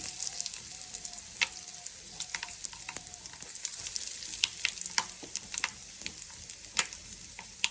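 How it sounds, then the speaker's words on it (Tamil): Mustard seeds and dried red chillies frying in hot oil give a soft continuous sizzle scattered with sharp little pops and crackles of bursting seeds, fairly close and quiet. "கடுகு நல்லா பொரிஞ்சு வர டைமில் வரமிளகாய் சேர்க்குறோம்"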